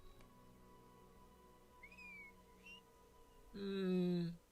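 A short whistle sounds in a video game, a near, bright tonal call with a slight waver lasting under a second, following a faint rising chirp over a quiet background hum.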